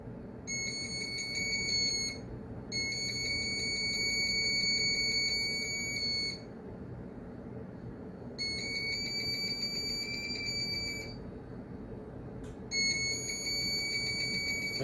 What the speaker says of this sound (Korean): 적외선 카메라, 레이저 포인트가 적외선 카메라로 근접하면 소리가 납니다